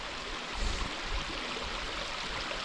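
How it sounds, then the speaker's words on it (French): Steady broadband rush of a mountain stream and waterfall in the Ehujarré gorge in the Pyrénées-Atlantiques, heard from just above the falls, continuous and moderately loud with no voices. "Alors là on est juste au-dessus de la cascade"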